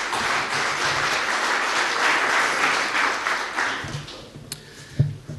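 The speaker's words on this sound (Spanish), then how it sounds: "Recibimos con un aplauso a Pablo Zamora." An audience at an agricultural talk on precision farming applauds to welcome a speaker; dense, sustained clapping fills the room for several seconds, then thins and fades, ending with a few isolated claps and a small knock.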